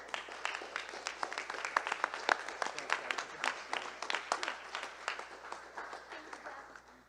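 An audience at a statewide inspirational speech championship claps for the top five speakers, steady applause of many hands with individual claps standing out, moderately loud and continuous throughout.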